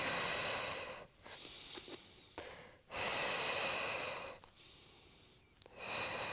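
Heavy breathing during a chest press in a full-body sculpt workout: loud, close inhales and exhales alternate in long rushes with short pauses between, and no one talks.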